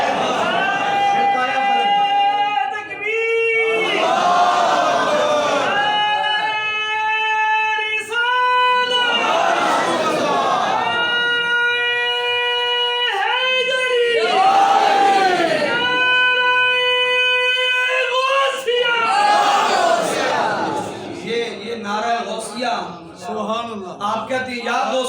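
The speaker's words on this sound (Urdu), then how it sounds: "آپ کہتے ہیں یا غوث اعظم، یہ نعرے ایسے ہی لگ رہے ہیں۔" A crowd at a Friday sermon gathering chants the religious slogan Ya Ghaus-e-Azam, sustained voiced phrases rising and falling in repeated waves, loud and continuous for the whole stretch.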